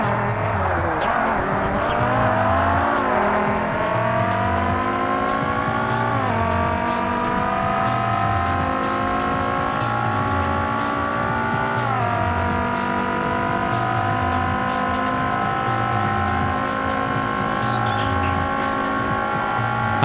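A Porsche race car in Forza Motorsport (2005) roars through a chicane, its loud engine revving hard and dropping in pitch on gear shifts, with tire squeal throughout.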